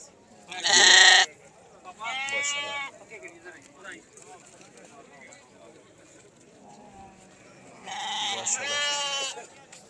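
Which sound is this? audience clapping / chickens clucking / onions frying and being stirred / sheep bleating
sheep bleating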